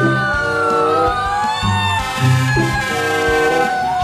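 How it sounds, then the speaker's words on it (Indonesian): A toy fire truck's siren wailing loudly and continuously, rising and falling electronic tones close up, with rhythmic honking beneath it. "Ini mobil pemadam kebakaran."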